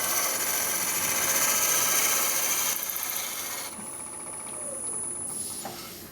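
Woodturning gouge cutting a maple burl bowl on a lathe, a steady loud rasping scrape for nearly three seconds, then a softer continuing cut with a thin high whine.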